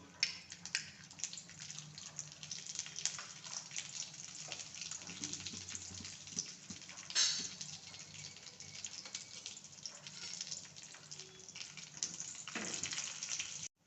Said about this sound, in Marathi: या तुपात ना मी आपले बदाम आणि मनुके असे जरा कलर चेंज होईपर्यंत भाजून घेते